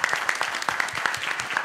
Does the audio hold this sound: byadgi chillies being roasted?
no